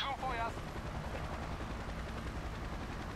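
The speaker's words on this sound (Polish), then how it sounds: "Lądujemy helikopterem na płycie do lądowania" Helicopter landing on a helipad in the Emergency 4 firefighting game, a dense loud rotor roar and engine rumble filling the whole stretch, with brief chirping tones at the start.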